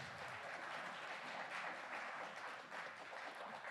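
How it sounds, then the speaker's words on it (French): An audience applauds at a big band concert, a faint, even wash of clapping from a distance that holds steady for a few seconds. "Oui, applaudissez-le bien."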